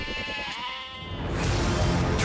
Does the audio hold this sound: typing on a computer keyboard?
no